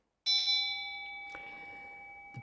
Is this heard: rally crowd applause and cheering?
no